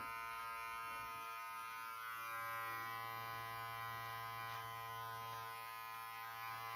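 A small electric beard trimmer buzzes steadily and close up for several seconds as it lightly trims stray hairs sticking out on the side of a beard, a continuous even hum with no talking.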